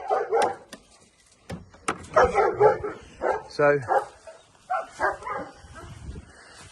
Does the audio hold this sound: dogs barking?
yes